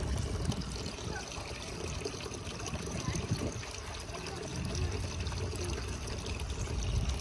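Water trickles and pours steadily in a stone grotto at an outdoor prayer site, a continuous close wash of liquid noise with no clear breaks.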